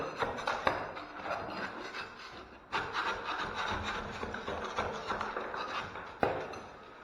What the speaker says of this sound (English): get a scraper in the crack. That's the crack. And just get the loose out like that.